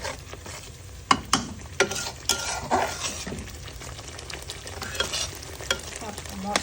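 Fish curry masala stir-fried in a pan with a little water, a steady sizzle broken by repeated sharp spatula scrapes against the metal, close and rhythmic, with no speech.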